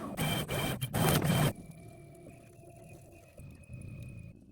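Onefinity CNC router gantry traversing in dry run mode with the Z axis raised, heard as a steady low motor whine and faint stepper hum after a loud burst of broadband noise at the start.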